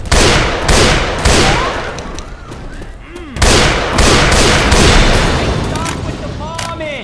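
Rapid gunfire crackles through a Left 4 Dead 2 versus match at The Parish, with loud volleys of repeated shots and booming bursts while voices talk over the action.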